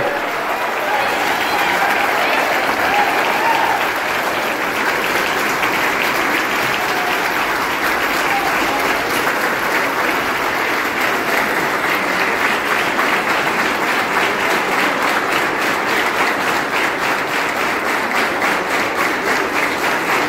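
Audience at a SuperX 2025 Java project competition winners' ceremony claps steadily and loudly for the Care Nexus healthcare team, a dense sustained applause that never lets up across the whole stretch.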